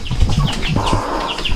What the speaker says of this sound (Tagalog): mga manok ng papa ko.